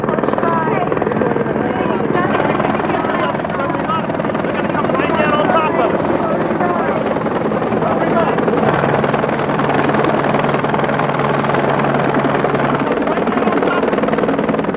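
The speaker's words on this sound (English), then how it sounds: "There was a very faint whirring of a helicopter that we could hear." A helicopter's rotor thumps and whirs loudly and continuously throughout, a steady pounding drone close overhead with a strong low hum joining partway through, with a voice talking over it.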